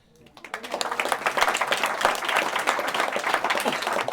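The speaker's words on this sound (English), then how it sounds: "we should give a round of applause to your mother" Audience applause at a spiritual gathering in Berlin, Germany, a dense crowd clapping that swells within half a second and holds steady and loud for the rest of the span.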